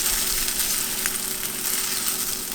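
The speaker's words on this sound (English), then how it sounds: "Just kind of keep working those around, stir your eggs up." Eggs seasoned with salt and pepper being stirred in a hot pan, giving a steady, close sizzle and frying hiss throughout with faint scrapes of stirring and no talking.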